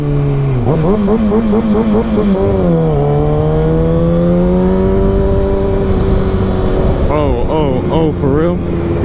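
A car cutting in and speeding off in traffic, its engine revving in repeated rising pulses, loud and close, then settling into a steady drone before revving again near the end, heard from inside another vehicle.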